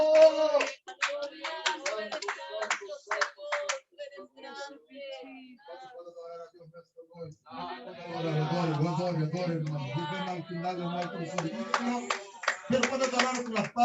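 A congregation claps hands during a Spanish-language evangelical worship service: quick bursts of claps open the passage, then give way to someone speaking and singing with the worshippers.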